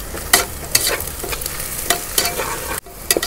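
Onions sizzle and fry in a pan for chicken biryani, punctuated by repeated scraping strokes of a spoon stirring them, close by.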